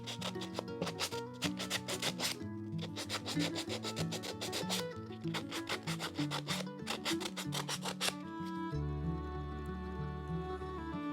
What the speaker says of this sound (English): I'm sanding the bottom and this part of this joint